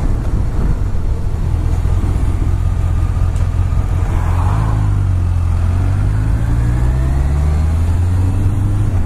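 A Honda CBR1100XX Super Blackbird motorcycle engine burbles steadily at close range, a constant low rumble that rises briefly in pitch midway as the revs lift, with no talk over it.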